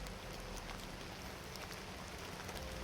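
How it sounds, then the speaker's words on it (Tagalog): Heavy rain falls steadily as a dense, even hiss, faint but constant, with no voices. "So yan, lakas na namang ulan,"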